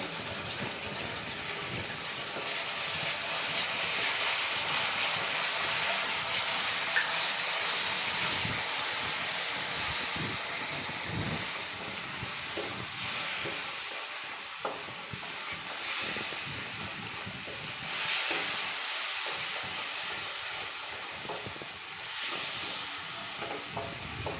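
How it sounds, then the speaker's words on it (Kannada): Raw tomato paste fries in a pan for an egg capsicum curry, giving a steady, close, loud sizzle and hiss with occasional stirring scrapes and no talk. "ಈಗ ಟೊಮಟ ಪೇಸ್ಟ್ ಮಾಡಿರೋದು ಹಸಿ ಹಾಕ್ತಾ ಹಾಕ್ತಾಯಿದ್ದೀನಿ"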